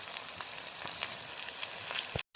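Chicken lollipops frying in oil filled to half depth in a pan, a dense steady crackling sizzle with scattered pops, cut off abruptly at the end.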